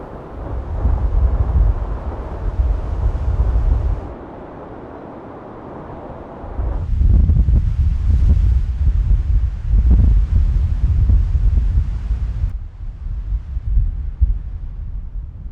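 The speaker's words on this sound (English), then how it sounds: "Not sure I've ever been in more windier conditions in my entire life than we've seen today." Strong wind blasts over open country during an Arizona elk hunt, a loud roaring rumble with heavy buffeting on the microphone. It surges, drops away briefly, then returns, and no one speaks.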